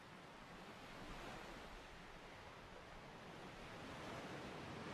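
Ocean waves washing onto a shore in a natural outdoor setting, a steady, continuous broadband rush of surf with no distinct breaks, moderately loud and even throughout, with no voices.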